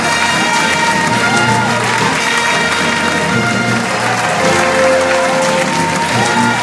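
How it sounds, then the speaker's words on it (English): Loud, continuous applause and cheering from a quiz audience greeting the winner of a finance and stock market quiz grand finale, with whoops and crowd shouts rising over steady clapping throughout. "With a huge round of applause, can I have him here on stage"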